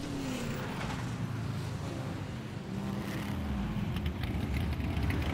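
A Lamborghini race car drives on track, a steady, fairly distant engine roar with a rising and falling pitch as it passes, continuous and unbroken.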